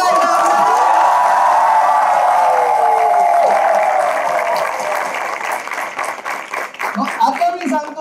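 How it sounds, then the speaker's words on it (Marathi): A large audience at a motivational talk for jewellers claps hard and cheers, with loud whoops riding over dense, sustained applause that thins slightly toward the end. "जोरदार टाळ्या. पुन्हा एकदा."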